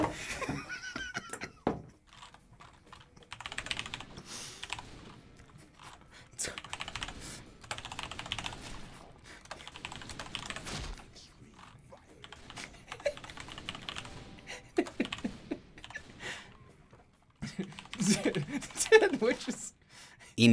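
Keyboard typing during a session of the game Typing of the Dead, clattering in bursts across the clip under ongoing talk and occasional laughter.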